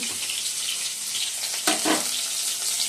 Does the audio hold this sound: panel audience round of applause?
no